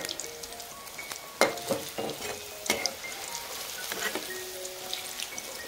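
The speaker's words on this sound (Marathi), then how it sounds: "हे पण जे आहे वडे आपण छानपैकी तळून घेऊया" Rice-flour vadas deep-fry in oil with a bubbling sizzle and crackle. Several sharper pops and splatters stand out over a fainter steady hiss, heard close with no speech.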